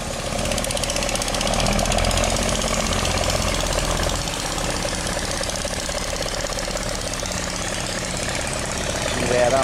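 A boat engine idles steadily while divers prepare to go down, a continuous rumbling throb with a mild knock that carries through the whole stretch, fairly loud and close.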